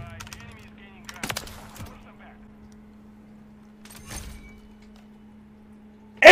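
Gunfire from a video game rings out in a few sharp bursts, separated by stretches of quiet game ambience with a steady hum underneath, ending in a loud final hit.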